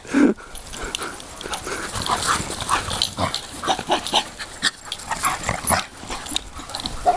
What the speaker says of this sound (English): You daft little dog!